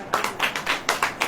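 A congregation claps in short rhythmic bursts, roughly six quick beats of hands in a steady pattern, moderately loud and close.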